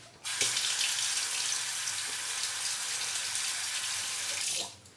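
Tap water runs steadily into a sink for a few seconds while someone rinses off after shaving, a close, even splashing rush that starts and stops abruptly.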